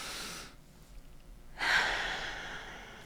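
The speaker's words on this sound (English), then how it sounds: "let's take a deep breath" One deep breath taken alone: a soft exhale, then a brief near-silent pause, followed by a stronger, airy inhale that slowly fades, close and quiet.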